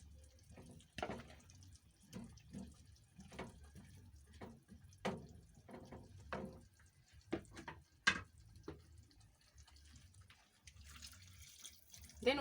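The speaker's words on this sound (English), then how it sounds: "I'll add little water for it to cook evenly." Water poured into a pot of matoke (cooking green bananas) on the stove, heard as a series of irregular splashes and trickles with quiet pauses between them.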